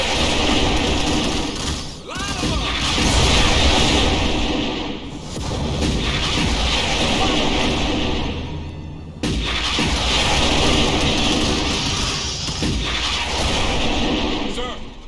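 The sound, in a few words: rocket artillery fire in Starship Troopers: Terran Command video game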